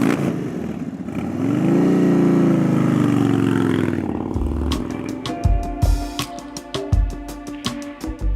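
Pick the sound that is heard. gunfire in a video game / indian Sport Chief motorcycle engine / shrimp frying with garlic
indian Sport Chief motorcycle engine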